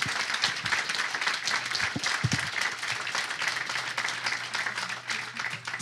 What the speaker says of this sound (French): Et je crois qu'on peut les applaudir